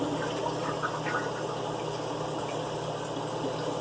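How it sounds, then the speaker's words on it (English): A dual flush toilet with toilet paper in the bowl flushes, a steady close rush and swirl of water running continuously without a break. "we're gonna try to flush it and see what happens"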